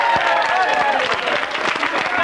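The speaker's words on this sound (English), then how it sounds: "Round of applause." A studio audience gives Peter Snow a round of applause, dense steady clapping and crowd noise with voices mixed in, brief and fairly loud.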